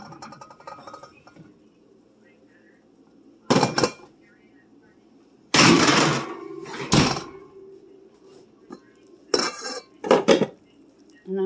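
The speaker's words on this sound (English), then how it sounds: "It is time to take the casserole out." A ground beef casserole dish being taken out of the oven, with separate bursts of clattering metal, dish clinks and an oven door thump between quiet stretches.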